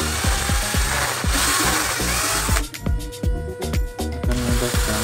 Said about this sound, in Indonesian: Jadi langsung kita bor saja seperti ini, akan memudahkan ya teman-teman.